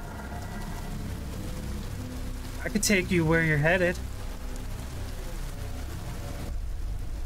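Steady rain pours across a video game scene, a constant hiss under a short stretch of spoken dialogue midway through.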